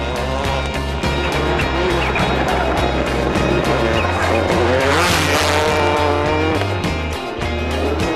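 A rally car at the 2004 Circuit of Ireland Rally slides across a stage, its engine loud and close with steady revving, tyre scrub and skidding throughout, swelling in the middle, no voices.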